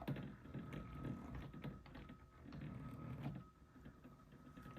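A model locomotive fitted with a Blunami H10 decoder runs slowly with a quiet motor, giving a soft, steady mechanical whir and faint clicking throughout, with no talk.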